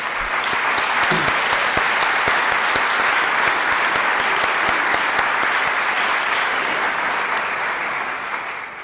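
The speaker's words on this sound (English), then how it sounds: "I want to ask you to join me in a round of applause" A civic association audience at a Palm Beach annual meeting gives the mayor and town council a round of applause, a dense, loud, steady wall of clapping that lasts throughout and tapers slightly at the end.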